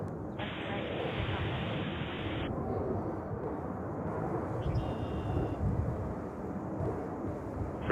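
A Delta airliner taking off from runway 13 right at JFK, a steady broad roar of engine noise that holds level throughout, with a faint high tone appearing early on.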